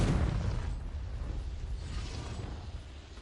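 A Confringo explosive spell goes off in Hogwarts Legacy, a loud booming burst at the start whose rumble trails away and fades over a few seconds.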